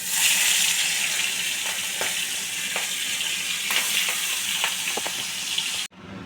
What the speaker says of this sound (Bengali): এই দেখো আমার তেল গরম হয়ে গেছে। আমি এবারে চিংড়ি মাছটাকে ভেজে তুলে রাখবো।